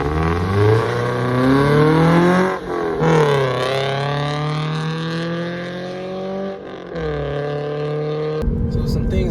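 A 2013 Scion FR-S accelerates on the road, its engine note climbing steadily in pitch through each gear, with two brief dips at the shifts before rising again. The drone is loud and close, as if heard from inside the car.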